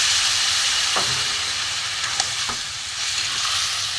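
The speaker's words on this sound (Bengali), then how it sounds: "কষানো হয়ে গেছে, অল্প করে জল দেবো।" Steady loud sizzle of mixed vegetables (potato, pointed gourd, pumpkin) frying in a pan for a vegetarian curry, with a few brief sharp hisses as a little water hits the hot pan; no talking.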